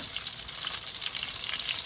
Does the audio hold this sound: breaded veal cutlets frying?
yes